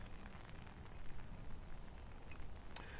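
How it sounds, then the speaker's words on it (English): Soft, even patter of light rain fills the background, a continuous gentle hiss with occasional faint drips and no voices. "Just raining ever so slightly."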